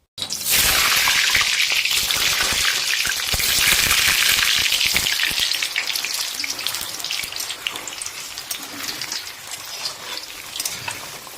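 Loud, crackling sizzle of boiled, lightly salted potatoes frying in hot mustard oil, a continuous hiss that gradually softens toward the end.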